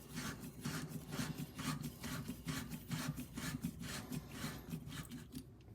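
A kitchen faucet collar being screwed back down by hand at the base, a quiet, rhythmic rubbing and rasping of threads repeated in even strokes with no speech.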